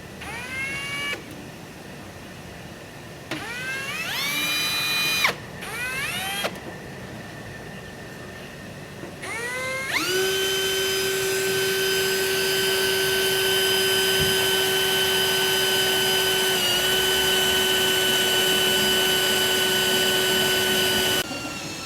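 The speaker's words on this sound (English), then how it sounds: "we are drilling holes into fresh paint on a new fender" A power drill bores holes into a freshly painted new fender for a Nissan Xterra, with several short whirring bursts that rise in pitch, then one long, steady, loud drilling run up close.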